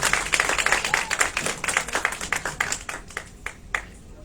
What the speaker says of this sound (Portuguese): As palmas é pro Davi.